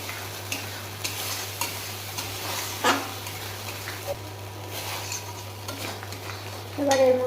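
Yogurt and cashew paste fry and get stirred for a paneer curry: a steady low sizzle runs under repeated scraping strokes of a spoon against the pan, ending in a louder stir and clatter.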